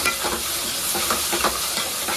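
Garlic paste being stirred and fried in a pan, a steady close sizzle with soft scraping stir strokes repeating throughout.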